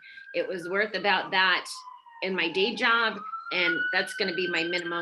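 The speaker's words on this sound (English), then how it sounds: "And I apologize for the sirens." City police sirens wail faintly outside, a thin steady rising and falling tone running beneath a man's continuous close-up talking throughout.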